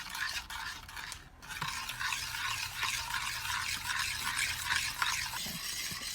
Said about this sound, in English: You want to make sure you're stirring it constantly. You don't want that butter or that sugar to burn.